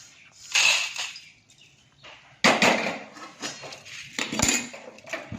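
Dry-roasted chickpeas being moved from a pan onto a plate, heard as bursts of close clinking, scraping and rattling separated by short pauses.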